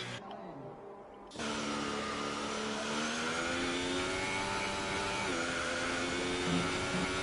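A race car engine in a sim racing game, pulling out of the pit lane on an out-lap at the Japanese GP: a steady, loud droning tone that rises in after a quiet moment and holds with layered harmonics.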